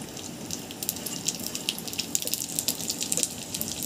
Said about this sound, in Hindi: घी डाल के इसको ड्राई फ्रूट को तल लेना है। ये काजू है, काजू को तल रहे पहले।